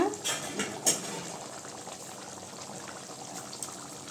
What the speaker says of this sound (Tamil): இப்போ குழம்பு நல்லா கொதிக்கட்டுங்க